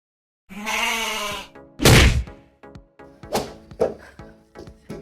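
A goat gives a loud, close, wavering bleat, followed by a heavy thud and a series of sharp knocks and bumps of irregular rhythm.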